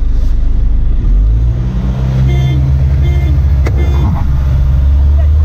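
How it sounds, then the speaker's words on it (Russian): A minivan, either a Kia Carnival or a Peugeot Traveller, accelerates hard on a test drive, its engine roaring loudly from inside the cabin with rising revs and a steady drone beneath. "Вот это разгон!"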